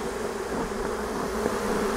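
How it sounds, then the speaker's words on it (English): Thick swarm buzzing from honey bees massed on the edge of a beehive frame, loud and unbroken, right up close with no one speaking. "because there's way too many bees on the edge here"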